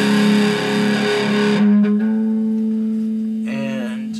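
An electric guitar through distortion plays the opening of a song, a thick sustained chord ringing out, fading, then struck again near the end.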